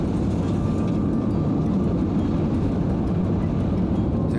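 A roller coaster train launches in a coaster-building video game, giving a loud, steady low rumbling roar that holds constant throughout with no talking.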